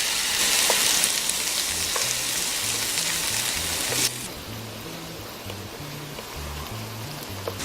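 Seafood sizzles and fries steadily in a paella pan, a loud, continuous crackle with faint stirring clatter, easing slightly partway through.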